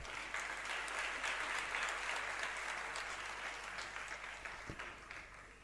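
An audience bursts into sustained applause during a Jain religious discourse by Vidhya Sagar Ji Maharaj. The clapping is dense and steady for several seconds, then thins slightly toward the end.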